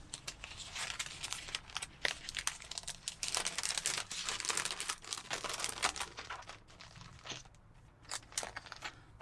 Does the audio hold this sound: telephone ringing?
no